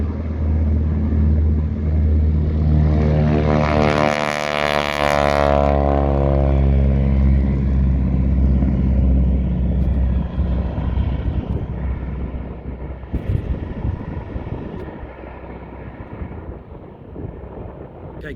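A radial-engine training plane roars loudly on its takeoff run, its engine note rising and sweeping upward before slowly fading as the aircraft climbs away, with steady low rumble throughout.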